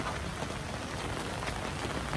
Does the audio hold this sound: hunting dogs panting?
no